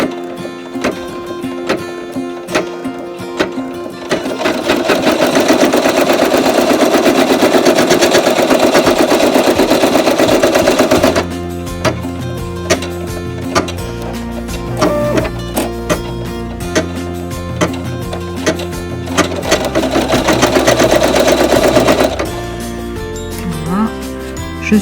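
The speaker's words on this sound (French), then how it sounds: "je mets en pause la brodeuse, je coupe mon fil et je repars" Embroidery machine stitching a design on faux leather, a loud steady mechanical buzz in two long runs broken by a pause with clicks, thread snipping and handling noises.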